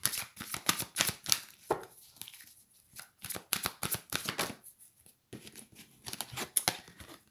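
Tarot cards being shuffled by hand in a quiet room, a steady series of crisp riffling bursts and flicks with short pauses between, close and fairly soft, with no talking.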